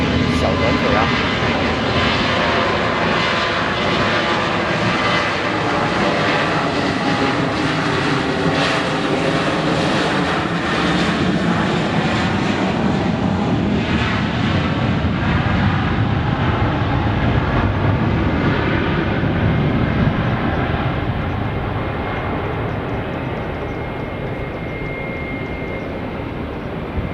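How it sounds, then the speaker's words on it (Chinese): A China Southern Boeing 737 roars loud and close on its takeoff run, a continuous jet engine rumble that slowly eases as the plane moves away, with a voice speaking over it. "现在正要起飞的是一架南航七三七小短腿啊"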